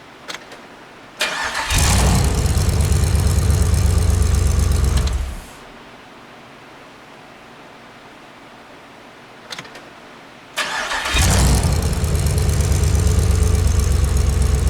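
A Toyota Celica fitted with a V8 cranks and fires up twice, roaring loudly for several seconds each time, with a quieter idle-like lull between the two bursts.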